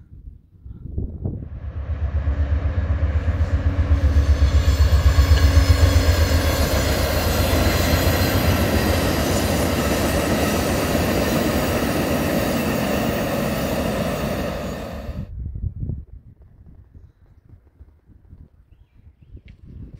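A train rolls past on tracks near Catoctin Creek, by an old canal aqueduct where the creek meets the Potomac River. It starts with a loud, steady rumble and clatter for about fifteen seconds, then cuts off abruptly to quiet background noise.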